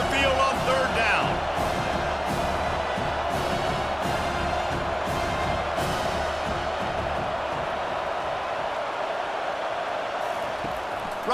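A home crowd cheers steadily in a simulated CFL football video game on a defensive third down, a continuous roar beneath a commentator who talks throughout.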